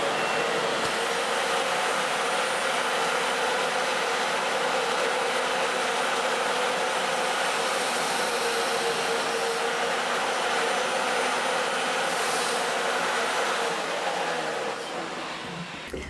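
An electric pump draws air out of a vacuum storage bag for clothes through an attached hose, giving a steady, loud whirring drone that holds throughout and eases slightly at the very end.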